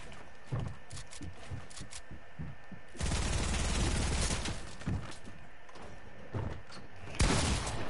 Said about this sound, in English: I shot you three times with my shotgun and you're not dead